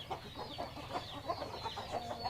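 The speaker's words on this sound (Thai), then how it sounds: "ตรงนี้จะเป็นไก่ชนนะครับ ผมเป็นเพาะไก่ชนนะครับ" Fighting cocks (game roosters) on a breeding farm clucking and calling in a busy, overlapping chorus, with repeated short clucks and a few stretched crow-like notes, moderately close and steady.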